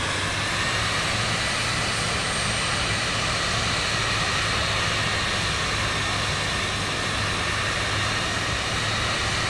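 Simulated Cirrus Vision Jet engine noise in Microsoft Flight Simulator 2024 while taxiing, a loud steady jet whine and rumble that holds constant throughout, no talk.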